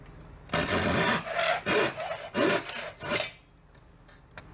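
An Irwin Marples rasp files wood in a series of about five rough, loud scraping strokes with brief pauses between them, then falls quiet apart from a faint tap.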